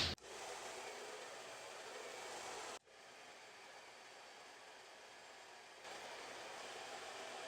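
A hair dryer fitted with a diffuser blows cool air while wavy hair is diffused, a steady faint whooshing hum that cuts out sharply, restarts at a lower level, then rises again, with no one speaking.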